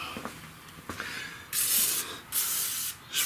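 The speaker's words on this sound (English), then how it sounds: "Spray these clamps a little bit." Short bursts of spray lubricant aimed at clamps during a 2005 Ford F150 transmission install, two or three loud hissing blasts in quick succession after a few faint handling clicks.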